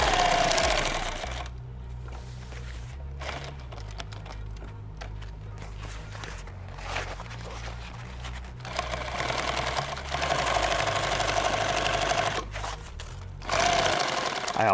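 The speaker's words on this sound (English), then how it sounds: "he's got this machine set super tight too. It could just be the thread clicking." A sewing machine with its thread tension set very tight stitches through webbing on a bag, giving a steady mechanical whir with rapid rhythmic clicking, broken by short pauses and restarts.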